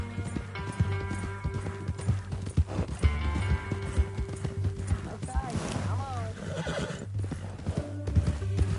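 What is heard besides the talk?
horse hooves and neigh in video game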